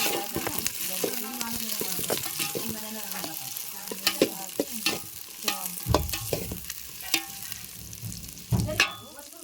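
Broken green chilies, peas and long-cut onion frying in oil, stirred with repeated scraping and clacking of a spoon against the pan over a continuous close sizzle.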